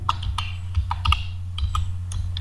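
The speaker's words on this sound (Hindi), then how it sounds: "तो ये हमने कुछ नाम टाइप कर दिए हैं" Fingers type on a computer keyboard while entering a list of names into a spreadsheet, giving scattered, close, light key clicks in irregular bursts over a steady low hum.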